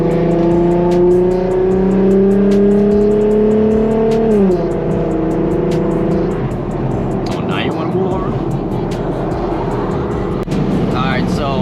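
An Infiniti Q50 3.7 engine revs up in fifth gear with rising pitch, then drops as it shifts gear and keeps pulling, loud and close, with some wind and road noise.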